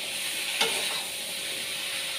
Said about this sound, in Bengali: আলুটা ভেজে নিচ্ছি ভালো করে